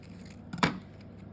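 Scissors cutting through paper during a craft project, one short close snip with a faint rustle before it, otherwise quiet.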